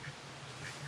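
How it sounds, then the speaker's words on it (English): Ducks quack close by at a fishing spot on an overnight session at Longleat, a short burst of calls over low outdoor background noise. "And now there's ducks coming over to eat my rod"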